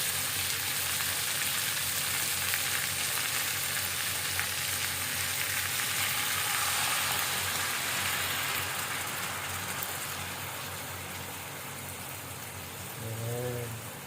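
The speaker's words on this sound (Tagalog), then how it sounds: "Tapos, lagyan na natin yung gata." Coconut milk sizzles in a pan of frying parrotfish as a dense, steady crackle and hiss that eases somewhat toward the end, where a brief voice sounds faintly.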